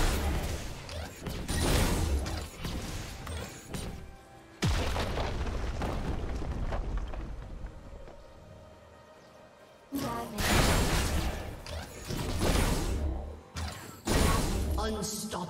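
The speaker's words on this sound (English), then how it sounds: "Blue team's turret has been destroyed" Heavy booming blasts mark a turret being destroyed in League of Legends, several loud explosive bursts separated by quieter gaps, with voices and game announcements heard across the action.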